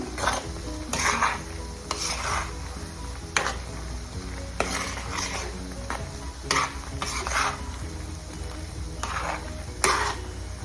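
Dried red chillies crackle and sizzle in hot oil with ginger-garlic paste for a spicy mutton dish, a steady fry under repeated spatula scrapes and stirring knocks against the pan at a regular rhythm.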